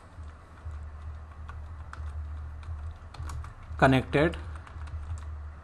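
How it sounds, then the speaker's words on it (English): Quick keystrokes tap on a computer keyboard while a command is entered into a router's configuration, soft and close. Someone briefly speaks over the clicking. "In the R1 we need to type redistribute"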